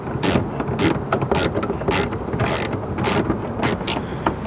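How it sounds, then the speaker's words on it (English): Ratchet clicking in quick bursts while tightening the tail light fasteners on a 2010-2024 Toyota 4Runner during a smoky tail light kit install, close and fairly loud, with no talk. "you're going to use your ratchet to finish it off"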